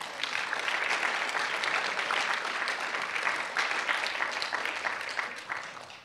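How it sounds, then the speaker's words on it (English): Sustained audience applause at a county student speech festival awards ceremony, a dense, steady wash of many hands clapping throughout, fairly loud and even, tapering slightly at the end. "So let's give them a big round of applause too."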